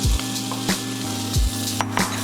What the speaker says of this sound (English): So in goes the dried shrimp.